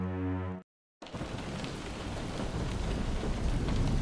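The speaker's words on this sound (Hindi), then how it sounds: "अचानक बादल गरजते हैं और बारिश की एक बूंद उस महल पर गिरती है" Steady heavy rain pours in a dense, continuous wash after a brief silence, with a low rumble of thunder mixed into the downpour, close and loud throughout a stormy scene.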